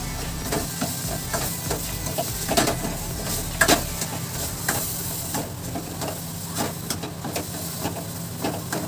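A spoon scrapes and taps in a pan of potato curry masala, quick irregular clicks and scrapes over a constant sizzling hiss.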